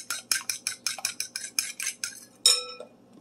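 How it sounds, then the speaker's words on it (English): Eggs beaten in a bowl with a whisk: about a dozen quick, evenly spaced metallic clinks against the bowl, close and fairly loud, with no one speaking. "Make sure that the eggs are beaten well"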